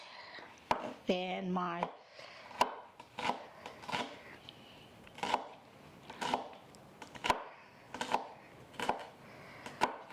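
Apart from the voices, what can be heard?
knife chopping shallot for garnish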